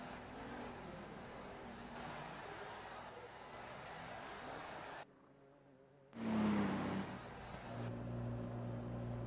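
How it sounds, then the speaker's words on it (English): A car in a racing video game does burnouts during a six-hour race. The engine drones loudly and steadily, cuts out briefly, then surges into a louder rev while a commentator talks over it. "Who is out there doing burnouts?"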